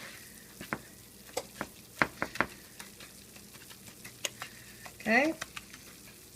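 A roux for milk gravy cooks in a pan with a faint steady sizzle, punctuated by scattered sharp clicks and scrapes of a utensil stirring, while a voice briefly speaks near the end.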